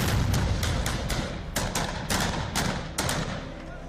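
Gunfire and heavy weapons fire during a battle between Peshmerga fighters and ISIS militants, heard as a string of sharp, distant cracks and thuds spaced irregularly over a constant low rumble, with no voices.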